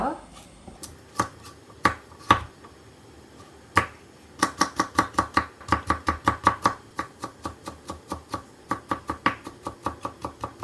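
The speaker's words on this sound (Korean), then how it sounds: "당근은 아주 조금 요만큼 이제 다져서 넣을 거예요." A knife chops carrot finely on a cutting board for potato salad, giving sharp repeated knocks, first scattered and then in fast steady runs, close and clear.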